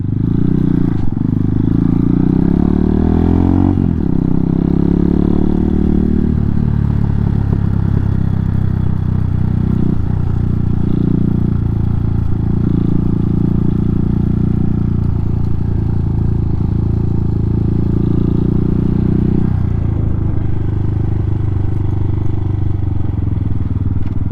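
An Amazon Hawk 250 motorcycle runs off-road on dirt, its engine droning loud and close throughout with a few revving surges and some rattling clatter, and no talk over it.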